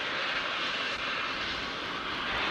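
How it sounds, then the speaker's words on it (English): Ground gas vents at a Falcon 9 launch pad as propellant lines are purged after fueling, a loud, steady broadband roar and hiss with no break. "The ground gas closeouts are underway. That's the venting you can see and hear at the launch pad."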